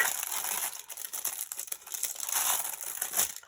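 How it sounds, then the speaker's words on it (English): A stubborn plastic bag holding a diamond-painting drill storage organiser crinkles and crackles close up, with continuous handling and tugging and no speech. "life's too short to be faffing about opening plastic bags when they don't want to be opened"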